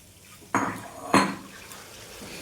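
Water poured into a pan of spices fried in oil for a Bengali mango katla fish curry, two quick splashing bursts followed by a low bubbling sizzle.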